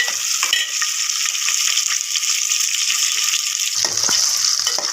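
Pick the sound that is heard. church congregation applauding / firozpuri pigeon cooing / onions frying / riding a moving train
onions frying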